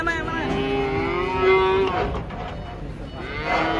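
A cow lets out a long, loud, drawn-out moo close by, followed by shorter lowing calls against a noisy outdoor background, as cattle are unloaded from a truck.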